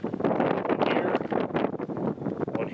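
Gusty wind buffets the microphone at an outdoor rifle range during 300 to 600 yard shooting, a steady rumbling roar that rises and falls in uneven surges with no talking.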